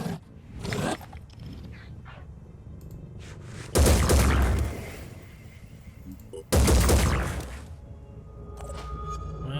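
Gunshots in the turn-based strategy video game Phoenix Point: two loud, sharp bursts of rapid gunfire several seconds apart, each starting abruptly and tailing off, with quieter mechanical game sounds in between.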